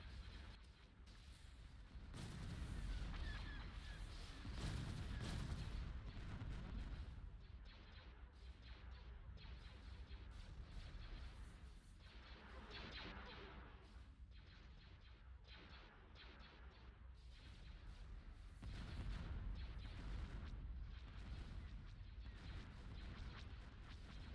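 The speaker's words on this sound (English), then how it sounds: "Ion cannon firing." An ion cannon fires in the Star Wars Empire at War space battle game, with repeated heavy booms and crashing blasts rolling through a dense, continuous barrage of battle noise.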